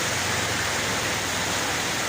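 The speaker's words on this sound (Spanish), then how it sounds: "cada día que pasa está lloviendo más fuerte" Torrential rain from Hurricane Eta in Villanueva roars as a dense, constant hiss, loud and unbroken throughout, with no talking.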